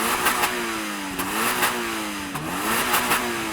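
Toyota GR86 engine revving hard in several rising and falling sweeps, loud and close, with no voices over it.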